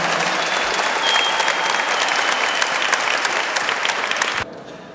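Loud, dense applause from a crowd at a volleyball tournament in Tomaszów Lubelski, sustained for several seconds before cutting off abruptly near the end.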